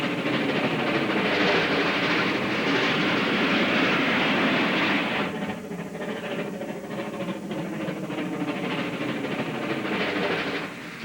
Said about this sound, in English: Number 76 of the Mississippian Railway made short work of running over 24 miles of light rail between Amory and Fulton in northeastern Mississippi.